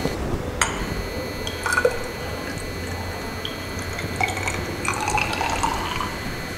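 About 50 ml of 0.1 N silver nitrate solution is poured from a measuring cylinder into a glass conical flask, making a faint, continuous trickle with occasional light drips and small clinks.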